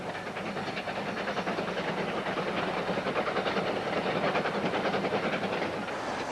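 Lightly loaded freight train on the Midland Main Line, rolling past with a steady rhythmic clatter of wheels over rail joints amid broad, continuous rumble and hiss.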